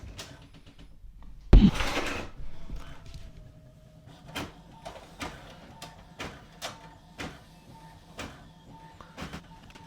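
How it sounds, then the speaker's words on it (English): A Brother MFC-J1010DW inkjet printer grabs paper with a sharp mechanical clack, then its print head shuttles back and forth in a steady run of short whirring passes, heard close up with no talking. "make sure you have some paper in your printer and press the print button"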